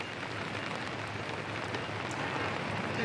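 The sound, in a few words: rain falling at a funeral scene in The Sopranos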